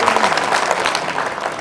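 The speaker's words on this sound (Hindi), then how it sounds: "एक बार जोरदार तालियों से उनका स्वागत किया जाए।" An audience in Wazirpur, Delhi gives loud, dense applause to welcome Haryana Chief Minister Nayab Saini at a community gathering, with a steady wash of many hands clapping at once.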